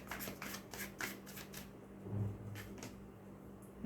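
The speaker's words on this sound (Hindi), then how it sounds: "इसलिए मैं कार्ड्स ऐसे सेट कर रही हूँ, अरेंज कर रही हूँ" Tarot cards are handled and laid out at close range: a soft run of rapid paper flicks and slides, then quieter shuffling and tapping as they are arranged.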